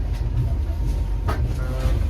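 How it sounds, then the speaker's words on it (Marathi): Passenger train rolling out of Miraj Junction, a steady low rumble and rattle filling the carriage with a brief clank partway through. "सध्या आपण ट्रेनचा प्रवास आपला सुरू झालेला आहे"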